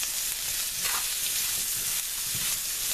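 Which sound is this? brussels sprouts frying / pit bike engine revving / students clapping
brussels sprouts frying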